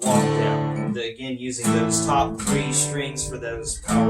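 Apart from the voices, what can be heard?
No everyday noises stand out.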